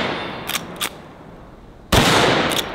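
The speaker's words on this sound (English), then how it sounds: "we're gonna see if we can hit a couple targets shooting from the hip" Mare's Leg lever-action carbine fired from the hip at targets outdoors: two sharp cracks close together, then a louder, longer blast with a decaying tail, all loud and near with no talking.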